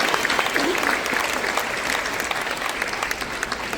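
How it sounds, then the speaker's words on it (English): Audience at a graduation ceremony breaks into sustained, loud, dense applause, an even wash of clapping with no pauses. "Round of applause for everybody."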